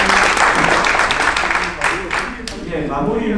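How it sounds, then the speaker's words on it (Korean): Applause at a breakfast forum on construction and Seoul expressway plans: a burst of audience clapping for the presenters and panelists, close and loud, with talking mixed in underneath. "다시 한번 큰 박수 부탁드리겠습니다"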